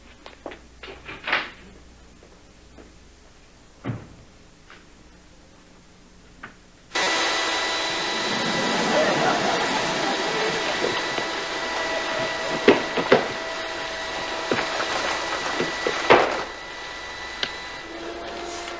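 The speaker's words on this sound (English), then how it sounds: "Carly, turn off the vacuum" A household vacuum cleaner switches on abruptly partway through and keeps up a steady loud whine with a few bumps and knocks, after a quiet stretch.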